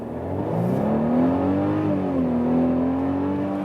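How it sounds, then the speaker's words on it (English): A midsize SUV engine in sport plus mode pulls hard under acceleration, its close, smooth tone climbing in pitch, easing briefly, then rising again as the vehicle gains speed, with no talking. "Let's just accelerate a little bit, see how much power this car has for you."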